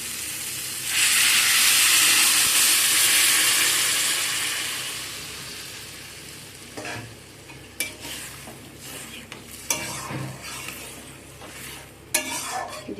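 Water poured into a pan of sizzling fish egg masala sets off a loud rushing hiss that swells and slowly fades, followed by scattered scraping stirs and clinks of a utensil against the pan.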